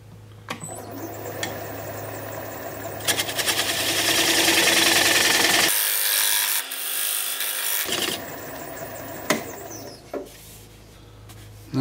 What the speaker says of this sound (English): I'm just going to take my little homemade point tool and emphasize this little ring